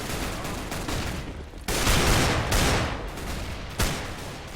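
Dense, continuous gunfire from a Counter-Strike LAN semi-final match on Mirage, rapid bursts and shots layered into a loud, noisy fusillade, with sharper shots standing out, no clear talk.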